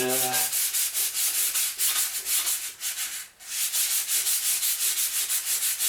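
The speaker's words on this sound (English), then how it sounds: "So I'm just going to get on and give this another go of sandpaper" Sandpaper rubs hard and fast back and forth in a steady rhythm of loud, close strokes, continuing without a break apart from a brief pause midway.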